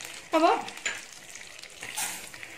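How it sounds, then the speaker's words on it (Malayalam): Vermicelli (semiya) frying in melted ghee in a pan gives a soft close sizzle with a few stirring scrapes, brief and fairly quiet. "അപ്പൊ എന്നിട്ട് സേമിയ ഇതിനകത്ത് കിടന്ന് നന്നായിട്ടൊന്ന് വറുത്തെടുക്കാം നമുക്ക്."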